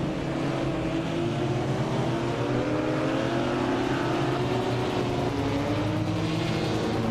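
Several race car engines droning together during a video game race, a steady loud whine with rising pitch sweeps as cars accelerate, continuous throughout with no talking.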